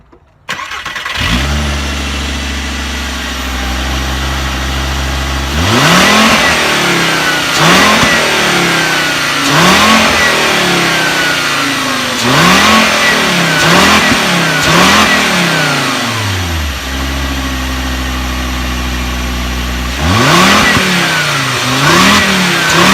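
An air-cooled VW Beetle engine fitted with a new air intake idles steadily, then revs up in repeated sharp bursts that fall back to idle, loud and close with no talking.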